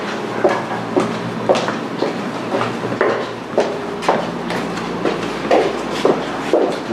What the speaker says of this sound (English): Watch the tram car, please.